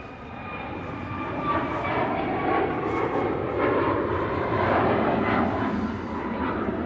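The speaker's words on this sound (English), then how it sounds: "Ryanair 737 MAX off to Lisbon." A Ryanair Boeing 737 MAX taking off from Manchester Airport for Lisbon produces a sustained, broad engine roar that builds gently and holds steady, heard from a distance with no voices.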